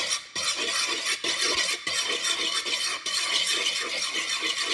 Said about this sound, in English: I'm gonna make sure all of it is whisked in